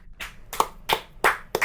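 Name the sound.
group applause for team group heads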